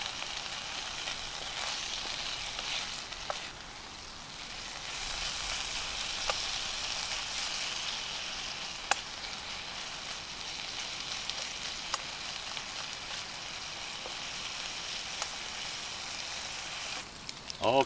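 Bacon, eggs and hash browns fry together in a pot at a lakeside brunch, giving a steady, soft sizzle that runs throughout with a few faint clicks and a brief lull, no talk over it.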